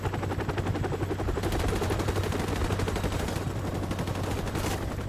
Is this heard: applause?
no